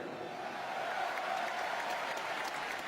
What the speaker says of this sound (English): will get a huge cheer here